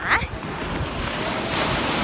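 Surf rolls in at Nai Harn beach in Phuket, Thailand, at sunset, a steady broad wash of breaking waves mixed with gusting wind across the microphone, with a brief voice at the start.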